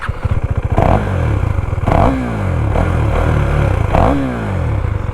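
A motorcycle engine idles loudly up close, with a few sharp revs rising and falling over a chugging, rhythmic rumble.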